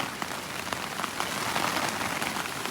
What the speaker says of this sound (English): That's the rain now.